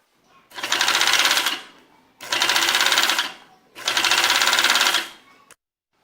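A home overlock sewing machine stitching a seam runs in three loud, close bursts of fast, even whirring, each a second or more long, with short pauses between them.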